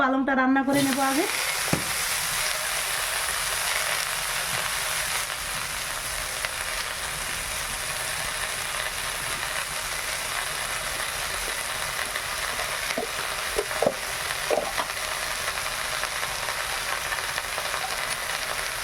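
Spinach fries in a pan with a dense, continuous sizzle throughout, broken by occasional faint scrapes of stirring, in a village kitchen.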